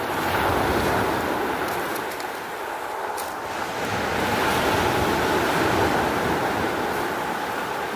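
Waves of the Tyrrhenian Sea roll and break in a steady, loud surf wash, with wind buffeting the microphone and no talking.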